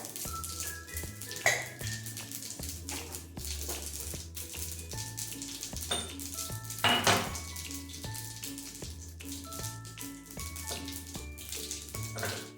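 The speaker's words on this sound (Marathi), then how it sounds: "चांगलं तळतळू देऊ याला. दहा 12 टाकू मेथीचे दाणे." Fenugreek seeds crackle and sizzle in hot oil alongside cumin, with a steady fry under scattered clinks of utensils against the pan.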